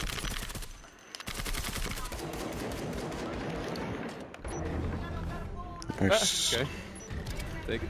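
Rapid gunfire comes from the Breachers VR tactical shooter, played on PSVR2. Bursts of shots rattle steadily through the clip over game noise, with a sharper metallic clatter near the end and a player talking in between.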